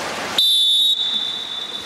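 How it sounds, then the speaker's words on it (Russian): A sharp, shrill referee whistle blast rings out at the start of a water polo match at an indoor pool, steady for about half a second, over a faint hall background with no talking. "прозвучал свисток начала"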